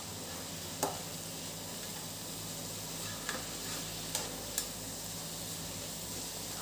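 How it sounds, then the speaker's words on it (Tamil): Snake gourd fry stirred in a pan, a steady soft sizzle running throughout with a few faint scattered scrapes and clicks of the spoon, no talking. "கிளறி விட்டுறலாம்."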